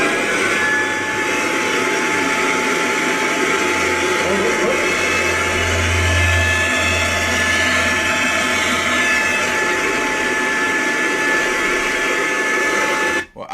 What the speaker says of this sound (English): using a leaf blower to see how much wind it would take to shut the door